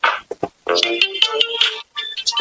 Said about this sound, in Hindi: देखा अगुआ के फोन आ गया।